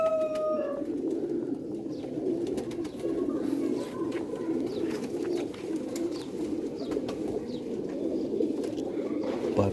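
Sialkoti pigeons coo continuously in a low, murmuring chorus, steady and close, with a few faint chirps on top.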